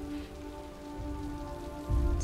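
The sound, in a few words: rain in video game Detroit Become Human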